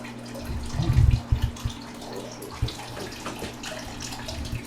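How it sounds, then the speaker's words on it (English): Water drains from a plumbing hose cock on a leaking manifold into a bucket, opening with a loud splashing gush, then settling into a quieter steady trickle with occasional drips. "We're going to use a bucket to catch all this water so it doesn't go all over the place."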